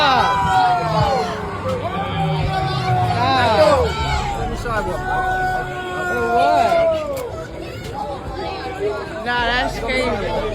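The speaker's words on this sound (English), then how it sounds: "the crowd starts to get upset" An agitated crowd reacts to a police arrest at a music video shoot in Kensington: many loud, overlapping voices shout and protest up close in a continuous, heated babble.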